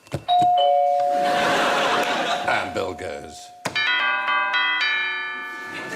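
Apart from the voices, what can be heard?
doorbell chimes played as contestants' buzzers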